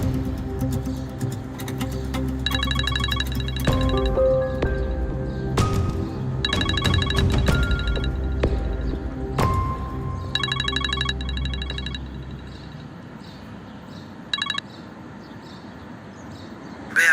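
Telephone ringtone sounding in repeated trilling bursts with short pauses between them, fairly loud and continuous over a low background rumble, with no talking.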